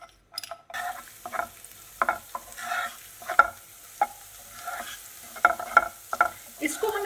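Ginger and garlic hit hot clear cooking oil in a pan for a soft steady sizzle. Intermittent stirring scrapes and taps sound over it, with no voices.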